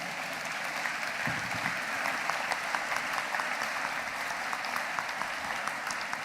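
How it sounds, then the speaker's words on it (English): A graduation audience at a Swansea university ceremony applauds steadily, a dense wash of many hands clapping with faint voices mixed in, sustained at a constant level throughout. "Yes, you can applaud."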